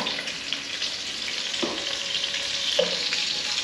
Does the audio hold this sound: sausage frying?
yes